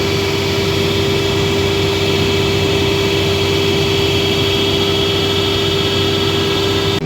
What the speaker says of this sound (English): Stepped inside the tractor to get a little bit of AC.